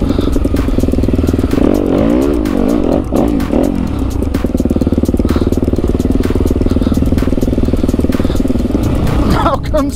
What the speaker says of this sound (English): Today I'm riding the 2018 Yamaha WR250F.